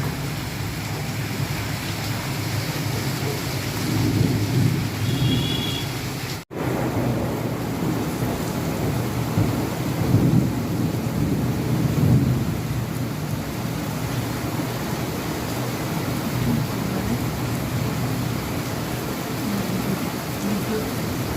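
Heavy evening rain falls steadily in a thunderstorm, with low thunder rumbles rolling underneath; a steady, dense wash of sound close by, with no talk.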